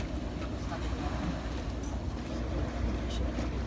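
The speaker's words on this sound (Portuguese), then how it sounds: "A pessoa só está a andar de barco ali" A boat moves on the water near the 25 de Abril Bridge, its faint, distant motor a low steady hum mixed with wind and water noise.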